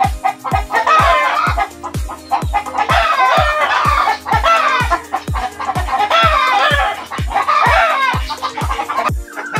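Loud chickens clucking continuously up close with a rooster's crow rising through, over a steady rapid mechanical ticking beneath.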